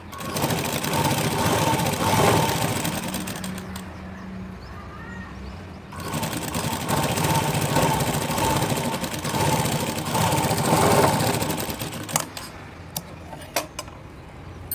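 A sewing machine stitches a blouse in long steady runs, a dense continuous whirr that pauses briefly midway and then resumes, ending in a few short bursts and clicks, close and loud with no voices.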